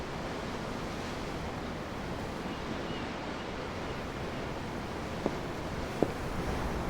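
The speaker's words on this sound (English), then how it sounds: "I'm looking at the ocean. The ocean? Yeah. The waves." Ocean waves in the video game Tales of Arise, heard from on board a ship: a steady soft wash of surf and wind, even and unbroken, with a couple of tiny faint ticks near the end.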